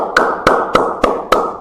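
Five sharp hand claps, evenly spaced at a slow, steady pace, close and loud, with brief gaps between them and no talking.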